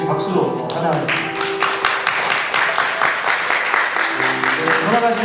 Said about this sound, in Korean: 열심히 박수로 환영하겠습니다.